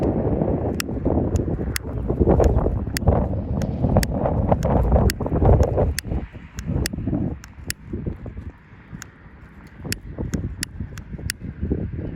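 Strong wind gusting outdoors at a model rocket-glider launch site, a steady low roar buffeting the microphone, with a series of sharp ticking clicks scattered over it and no talking.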